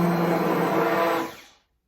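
A handheld homo mixer blender stirring coconut body lotion whirs steadily at a high-pitched motor hum, running close by for over a second, then switches off and winds down to silence.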